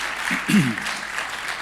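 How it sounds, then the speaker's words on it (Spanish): Loud clapping rises from a church congregation during a service, a full, steady ovation with a brief voice cutting through it early on. "Démosle un fuerte aplauso al Señor."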